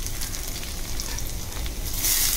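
Garlic and a quarter teaspoon of cumin sizzle as they are sautéed in a pan for moringa flower bhaji, giving a steady, fairly loud frying hiss with no talking.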